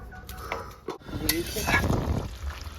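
A lid clanks onto a cooking pot holding potatoes and kohlrabi, a few close metallic knocks and scrapes followed by soft sizzling in a kitchen.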